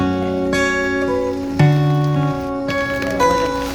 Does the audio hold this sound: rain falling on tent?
yes